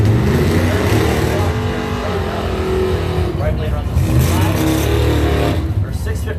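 Ford Mustang drag car at a Blue Oval Battle run-for-the-money race, a loud sustained engine roar filling the whole stretch with a track announcer talking over it.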